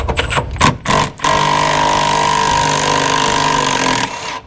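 Milwaukee power tool running on a car hauler: after a few short stuttering bursts, it settles into a loud, steady high-pitched whir for about three seconds before stopping.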